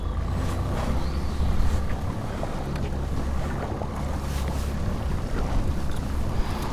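An outboard boat motor drones steadily on a lake during walleye fishing, a continuous low rumble mixed with wind buffeting the microphone and water noise, loud and close, with no talking.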